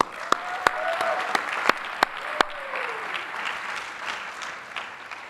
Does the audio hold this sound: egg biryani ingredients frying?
no